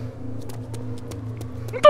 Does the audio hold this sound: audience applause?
no